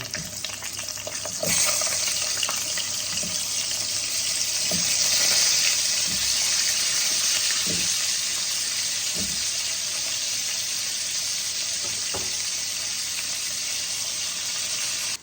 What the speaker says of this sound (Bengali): এবার আমি পেঁপেগুলোকেও ভেজে নেব।